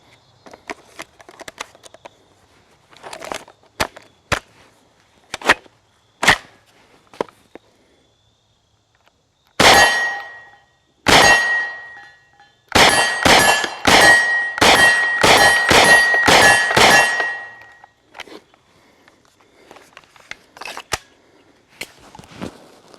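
Hi-Point carbine in a Hightower Armory MBS95 bullpup firing outdoors: scattered single shots, then a quick string of loud cracks, some followed by a ringing metallic ping, with quiet stretches between them.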